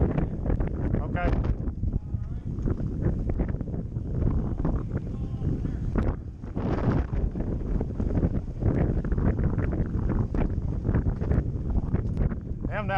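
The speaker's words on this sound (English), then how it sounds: "that wind's been good. It gets rough over here." Wind blowing across open water by a boat on the Great Loop, a steady broadband rush with microphone buffeting throughout, with people talking over it.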